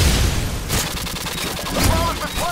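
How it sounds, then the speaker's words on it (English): A flashbang grenade bursting in Modern Warfare 2, Search and Destroy on the Trailer Park map, heard as loud, sharp cracks over a dense rumble of gunfire, with several sharp transients through the short stretch. "Tossing a flashbang!"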